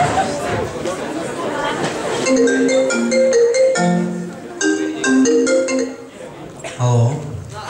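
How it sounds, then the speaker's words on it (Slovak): A telephone rings with a melodic ringtone, a bright repeating sequence of tones after a short stretch of crowd chatter, loud and close. "A v tej chvíli mi zazvonil telefón."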